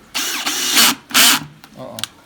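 Power drill boring a hole through a plastic planter, two loud bursts of whirring drilling about a second apart, followed by quieter clicks and handling.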